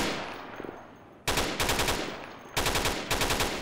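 Automatic rifle fire in the shooter game Insurgency comes in two loud, rapid bursts, each a quick string of sharp cracks followed by a decaying echo, with a faint distant rattle before them.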